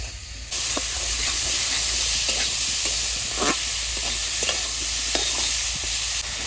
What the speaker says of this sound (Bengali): বেগুন ভালো করে ভেজে নিয়েছি